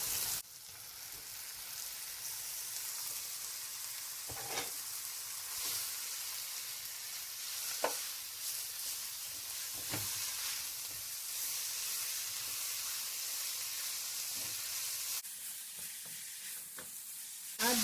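Meat for a Nigerian meat pie filling sizzles steadily in a hot pan, a dense continuous hiss with occasional stirring scrapes and clicks, close and loud, with no talking.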